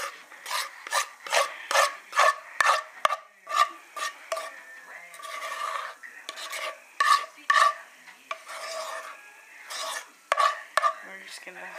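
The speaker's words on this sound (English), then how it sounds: "Now we're gonna grab the spoon and look at the pan. We're just gonna scrape down." A spoon scrapes banana bread batter down the sides of a pan in a run of short, rhythmic, close rasping strokes, some brief pauses between them, with no talking.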